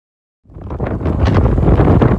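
Strong wind buffets the microphone on a riverbank in New Jersey during mudlarking and metal detecting, heard as a loud, continuous roaring rumble that starts abruptly after a brief silence, with no talking.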